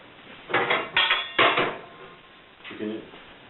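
A frying pan set down on an L.R. Bits Rocket wood stove, giving a few close metallic clanks and scrapes, then a softer clunk after a short pause.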